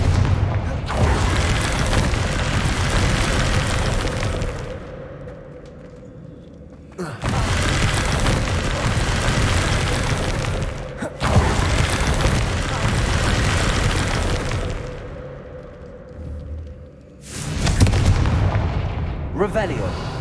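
Repeated blasting-spell explosions in the Hogwarts Legacy video game, four loud booming bursts of rumbling fire and debris in quick succession, each cutting off abruptly, with a player's voice calling out spell names between them.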